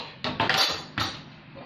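An oiled metal baking pan clatters and knocks as it is handled while dough for Moroccan fekkas biscuits is placed in it: a few sharp, close clinks in quick succession, then quieter.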